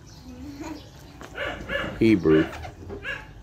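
A dog near a backyard pool whimpers and gives a few short, high yips and barks, mixed in with people talking close by.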